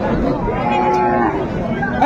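A cow at a busy village cattle market, where cows are sold with their calves, lets out a loud, close, sustained moo over a faint murmur of crowd chatter.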